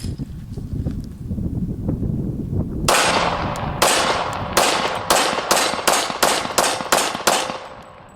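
A Glock 27 pistol fires factory .40 caliber 180-grain jacketed flat point rounds into a home-made bullet trap, about ten sharp, loud shots in a fairly quick, slightly uneven string after a stretch of low background noise.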